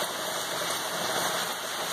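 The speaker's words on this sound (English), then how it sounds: "it is raining quite hard" Heavy rain falls hard, a dense, steady, even hiss with no pauses, loud and close, with nothing else heard.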